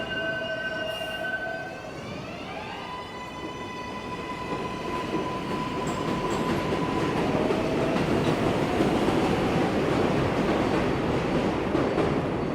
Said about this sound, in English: Can't catch a break from the subway noise here.